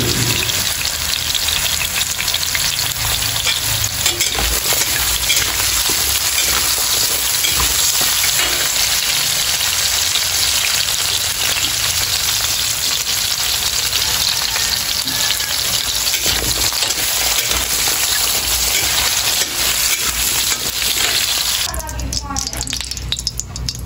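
Loud, continuous sizzling of pork frying in a hot pan, a steady crackle that stays strong throughout.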